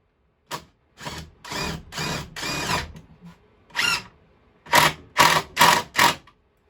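Cordless power drill driving screws into a shelf during a fix-up, heard as a series of close, loud whirring bursts of varying length separated by short pauses.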